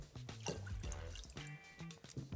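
Water is poured into a pot of pearl barley, a faint, close trickle with soft drips and light gurgling, heard alone.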